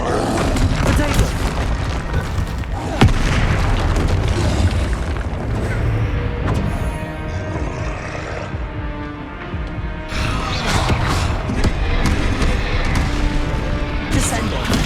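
Confringo explosion spell cast in the Hogwarts Legacy video game, a dense wall of booms, crashes and mechanical clatter that stays loud throughout, with no clear gaps between blasts.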